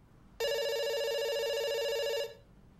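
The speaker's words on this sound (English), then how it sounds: "It's ringing." A telephone rings in the video game Dr. Langeskov, one steady electronic tone held for almost two seconds before cutting off, loud and close, with no talk.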